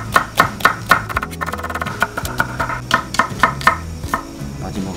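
A knife chops green onion (daepa) on a board for a restaurant-style doenjang stew, a steady run of close, crisp taps with a few brief pauses, over soft background music.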